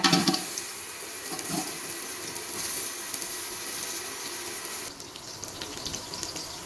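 Tap water runs steadily while basmati rice is washed in a cooking pot, a continuous close splashing hiss that softens slightly near the end.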